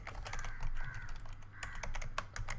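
Rapid, irregular clicking of keys on a computer keyboard as someone types a short command, close and fairly quiet, with no talking.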